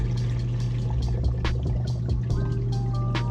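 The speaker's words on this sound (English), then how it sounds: "you always want to make sure to add water to your filters from the tank" Water pours and splashes steadily into an aquarium filter over a constant low mechanical hum, with small gurgles and drips throughout.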